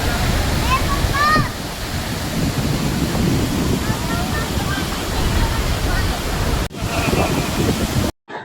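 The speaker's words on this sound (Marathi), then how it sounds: "पाणी असं जोरानं मोठ्यानं वरून खाली पडत होतं" Thoseghar waterfall pours forcefully from height, giving a continuous loud broadband roar of falling water. Brief chirping bird calls sound over it, and the roar cuts off abruptly near the end.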